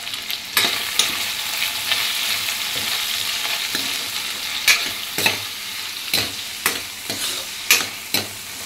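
Chopped tomatoes and turmeric sizzle steadily in a pan for a ridge gourd curry, with a spoon scraping and knocking against the pan at irregular intervals, close up and without talk.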